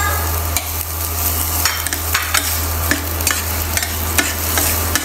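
Garlic fries in a small amount of cooking oil with a steady, loud close sizzle, punctuated by scraping and clacking strokes as it is stirred in the pan, over a low hum.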